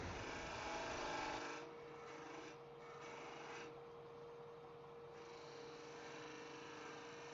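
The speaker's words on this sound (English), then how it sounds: "I'm going to transition to a pull cut where I'm actually riding the bevel on the side of the wing" A knife draws pull cuts along a wooden wand, giving a continuous, close scraping rasp that is louder at first and then steadier and softer.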